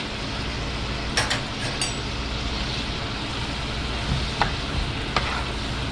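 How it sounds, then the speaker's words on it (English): French fries fry in hot oil, a dense, steady sizzle and bubbling hiss that is loud and continuous, with a few brief clinks and stirring sounds on top. "That means the outside is starting to really fry, but the inside's still soft."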